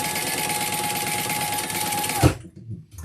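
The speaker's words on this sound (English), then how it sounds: "Now we're only going to stitch the sides here." Sewing machine running steadily as it stitches the sides of a leather wristlet pocket, a dense rapid whir lasting about two seconds before it stops abruptly, followed by faint handling noise.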